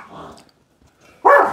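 A small dog barks, a softer yap followed by a pause and then a loud, sharp bark close by.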